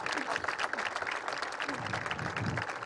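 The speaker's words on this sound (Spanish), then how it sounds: "Y un aplauso muy grande a los muchachos que trabajaron durante toda la obra." Crowd applause at an outdoor inauguration of Plaza Belgrano, honoring the workers who built the plaza; steady, dense clapping carries through the whole stretch at moderate loudness with a low murmur of voices beneath.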